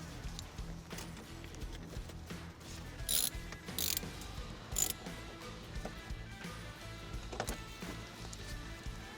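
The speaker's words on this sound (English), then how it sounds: "tighten the hose clamp with an 8mm socket" A ratchet with an 8mm socket tightens a hose clamp on the air intake ducting under the hood of a Chevy Silverado, giving a few short bursts of fast ratcheting clicks near the mic over a faint background hum.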